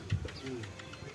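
A pigeon gives a short, soft coo in a home loft where pigeons are kept for sale, heard faintly for about a second against low background noise.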